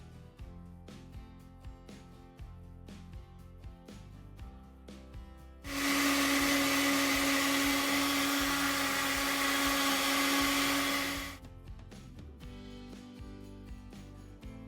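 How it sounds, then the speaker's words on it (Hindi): A mixer grinder grinds spices, whirring loudly for several seconds in a steady high-pitched drone, then stops, with quieter background music before and after. "मसाला जात मिक्सी के अंदर शामिल करने के बाद बारीक पीस लेंगे।"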